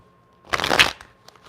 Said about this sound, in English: It'd be a terrible shuffle every time I start.